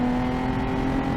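A modified Nissan 370Z engine drones steadily at high revs on a track, a continuous close, loud mechanical roar with a strong tonal hum.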